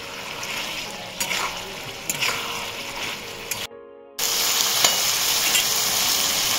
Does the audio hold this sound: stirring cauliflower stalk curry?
yes